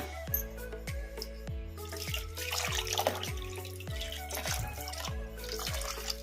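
Water drips and trickles into a container with a run of quick splashy drops, close by and fairly quiet.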